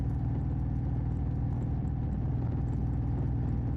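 A motorcycle engine held at steady throttle on a night ride, a continuous low rumbling drone with an even, unchanging pulse and no other sounds.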